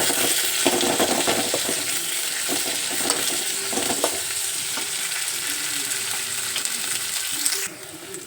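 Onions, green chillies and curry leaves fry in a pan with a loud, continuous sizzle and occasional stirring scrapes throughout, no voices.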